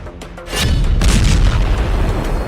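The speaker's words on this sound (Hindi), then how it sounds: "फिर जबरदस्त धमाके की आवाज के साथ दोनों प्लेन जमीन पर आ गिरते हैं।" Two training planes crash to the ground with a heavy, booming explosion. A deep rumble swells and holds loud for about two seconds, with sharper bursts near the start.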